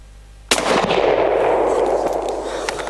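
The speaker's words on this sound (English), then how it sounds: "Geez, you really hear the thump too when that projectile hits." An Anschutz Model 1770 .223 rifle fires at a can outdoors: one sharp, loud report that bursts in suddenly, then a long, rumbling decay that rings on with no talking.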